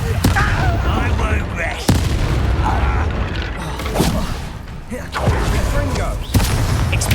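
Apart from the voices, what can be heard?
Confringo and Incendio spell blasts in Hogwarts Legacy video game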